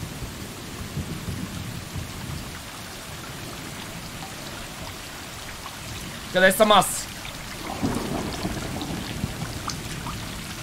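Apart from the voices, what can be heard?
rain and thunder in a cat video game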